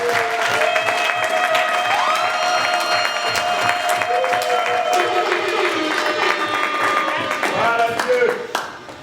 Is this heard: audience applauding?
yes